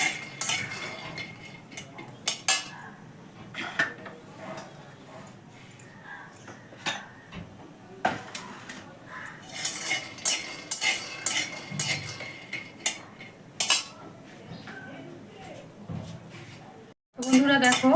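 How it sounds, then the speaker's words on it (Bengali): Peanuts are fried in a pan while a metal spatula scrapes and clinks against it in irregular bursts, close and fairly loud, with a voice talking over parts of the stirring. "এদিকে আমি বাদামটাকে সুন্দর করে ভেজে নিচ্ছি"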